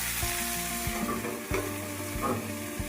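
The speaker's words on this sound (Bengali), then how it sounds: "এবার আমি এগুলোকে একটু ঢাকা দিয়ে ভেজে নেব।" Mixed vegetables with drumstick stalks fry under a lid in a pan, giving a steady close sizzle with a few soft thumps and rattles.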